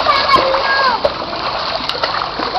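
A child swimming in pool water at a water park, with continuous splashing and watery churning up close, while an adult voice speaks over it.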